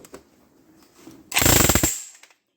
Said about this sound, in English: is a vintage, old school Milwaukee electric jackhammer.